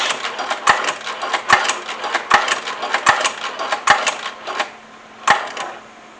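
A sewing machine runs backward, back-stitching fabric on a handmade stick horse, in a quick mechanical whir punctuated by regular sharp clicks of the needle, close and fairly loud, with a brief pause near the end.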